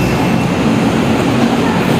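A Manila LRT Line 2 train rumbles loudly and continuously with a steady hum and rolling rail noise, heard up close with no talk.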